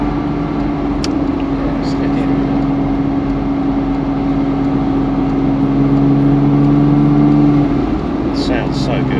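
A Porsche 987 Boxster with the 2.7 flat-six engine drones steadily while driving, with a sustained hum that rises slightly in pitch before easing off, heard from inside the car without talk.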